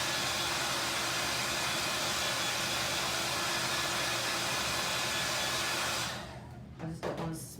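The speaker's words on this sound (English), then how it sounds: "I'm going to hit it just a little bit with the hair dryer and blow everything away." A hair dryer blows steadily to dry paint on a painted snowman board, a close, even rushing hiss that cuts off near the end, followed by a few soft handling knocks.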